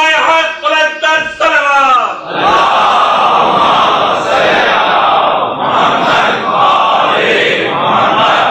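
Audience at a religious majlis chanting salawat together. A loud, sustained crowd voice rises in rhythmic swells after a brief sung opening line.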